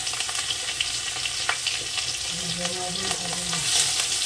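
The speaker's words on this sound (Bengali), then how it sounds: "এটাকে আমি সুন্দর করে ভেজে নেব।" Green chili and crushed garlic fry in hot oil over a radhuni seed tempering, producing a steady, dense sizzle with light stirring scrapes, close and continuous, with no talking.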